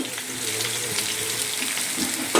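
Chopped onion hitting hot oil with mutton in a pan, giving a steady close sizzle and hiss with a faint watery crackle throughout, no voices.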